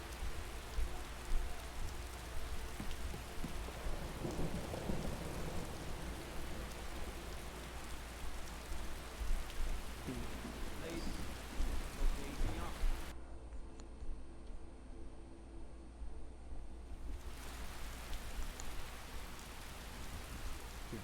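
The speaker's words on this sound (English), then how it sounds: "Oh no, it's still raining." Steady rain falls in a video game using the ELFX lighting mod, a continuous broadband hiss of droplets with faint ticks, fairly even throughout and briefly thinning partway, with no clear talk.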